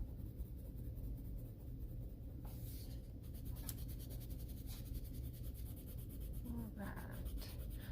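Colored pencil scratches firmly back and forth across paper to burnish a gnome drawing, close and steady scribbling strokes at low volume.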